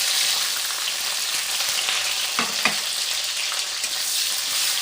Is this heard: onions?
yes